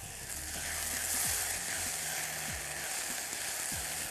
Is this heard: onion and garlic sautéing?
yes